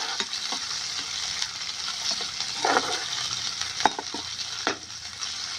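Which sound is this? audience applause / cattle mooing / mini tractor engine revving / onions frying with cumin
onions frying with cumin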